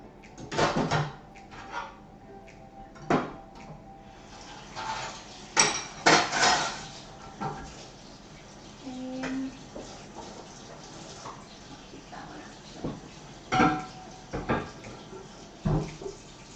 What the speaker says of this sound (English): So I'm going to wash out my pot so that I can use that once the potatoes come out